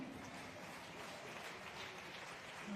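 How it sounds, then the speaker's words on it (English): Audience applause at a summit, steady and even, a continuous wash of many hands clapping throughout at moderate distance. "A round of applause, ladies and gentlemen."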